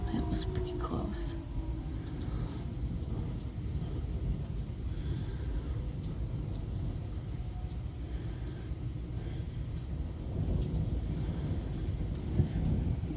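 A severe Michigan thunderstorm with steady, dense rain and low rolling thunder rumbling continuously for the whole stretch, loud and close, with no clear voices.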